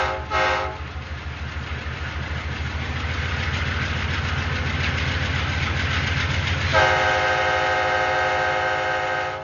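An MTH model train of the Amtrak Cardinal departs, its horn sounding in short blasts, then a steady mechanical rumble and rhythmic clatter, with a longer horn blast partway through, close and loud throughout.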